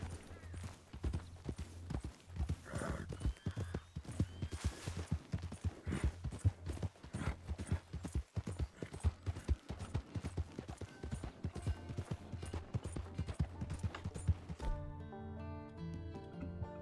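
Horse hooves clip-clop at a fast, steady gallop in the Red Dead Redemption 2 video game, loud and close throughout, ending as the hoofbeats stop and a short musical tone takes over.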